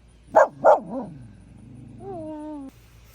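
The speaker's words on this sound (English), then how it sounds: "She's talking to the other dog." A dog gives two sharp barks followed by a softer yip, then a drawn-out whining whimper as it calls toward another dog; close and fairly loud with no talking.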